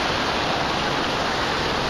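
Floodwater rushes after a flood in Phoenix over a former golf course, a steady, dense roar of moving water filling the whole stretch without pause or talk.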